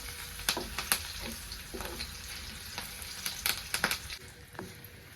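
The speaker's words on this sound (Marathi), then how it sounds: "तर आपल्याला लसूण लाल होऊ द्यायचा आहे" Garlic, curry leaves and chillies frying in hot oil for a shepu greens tempering, with a crackling sizzle broken by frequent sharp pops and spatters, close and without talk.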